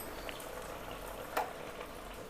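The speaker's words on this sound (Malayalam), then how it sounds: "അങ്ങനെ നമ്മളെ കറി തേങ്ങ ഒഴിച്ചിട്ട് തിളച്ച് വന്നു." Potato curry with coconut milk bubbles quietly in a pot, a faint, steady simmering hiss with one brief soft pop partway through.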